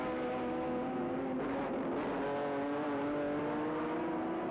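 Touring cars racing at Sandown in the 1984 Australian Touring Car Championship round, a sustained engine drone with shifting pitch as cars run past, steady and moderately distant.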